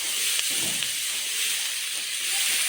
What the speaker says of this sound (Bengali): পেঁয়াজ কলিগুলো দিয়ে দেবো, একসঙ্গে ভাজা কষানো হয়ে যাবে।